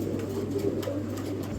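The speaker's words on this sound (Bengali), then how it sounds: "দেখেন স্টেনসিল কালারের কবুতর" Stencil-coloured pigeons coo softly and steadily at close range over a constant low hum, with faint bird calls mixed in.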